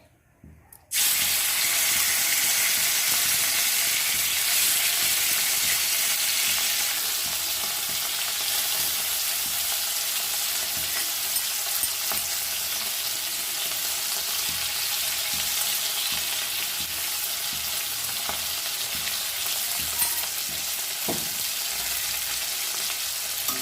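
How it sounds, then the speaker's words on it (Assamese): Ginger garlic paste hits hot oil in a wok and bursts into a loud, steady sizzle after a brief quiet start, then keeps frying with a dense hiss and faint scattered crackles. "এতিয়া কেৰাহীত তেল দি মই এই আদা নহৰুৰ পেষ্টখিনি যে কৰি লৈছিলোঁ, এইখিনি এতিয়া দি দিম ইয়াতে"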